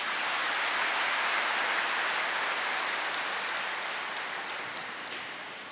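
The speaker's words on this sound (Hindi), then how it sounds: "आप खुद अपनी पीठ थपथपाओ और खुद के लिए ताली बजाओ।" A seated audience at a spiritual gathering claps for themselves in a dense, steady round of applause that fades slightly toward the end, with no voices over it.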